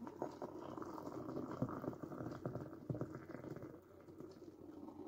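Hot water from a kettle is poured and mixed into instant coffee in a cup, giving a steady, close bubbling and splashing pour that runs continuously, with no talk.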